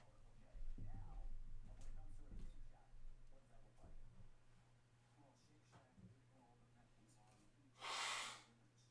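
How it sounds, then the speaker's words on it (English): A person blows their nose once near the end, a short, loud, breathy burst that follows several seconds of quieter breathing and room sounds. "I got to blow my nose real quick."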